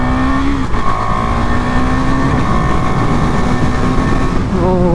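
A 2023 KTM Duke 390 motorcycle engine revs and pulls steadily while riding, its tone climbing and shifting through gears, loud and close with constant wind and road rumble beneath.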